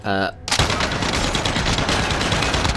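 The RAAL MG light machine gun in Call of Duty: Warzone fires a sustained, loud, rapid burst of gunshots after a brief musical tone, with the shots rattling on continuously to the end.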